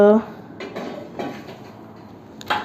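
Old aluminium non-stick pans with worn-off coating are handled, making a few sharp metallic clanks and knocks spread across the moment, close by, with a voice briefly heard.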